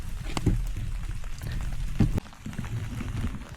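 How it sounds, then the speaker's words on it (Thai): Light rain pattering on a camping tarp in a forest at night, with a steady soft hiss of drizzle and occasional louder drips falling from the fabric close by. "น่าจะเห็นหยดฝนที่หยดลงจากผ้านี้นะครับ"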